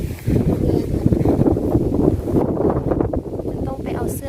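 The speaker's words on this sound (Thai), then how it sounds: "ทุกคนลมแรง ลมแรงมากเลย" Strong wind buffets the microphone on a mountainside, a loud, continuous rough roar with gusty swells that runs through the whole stretch.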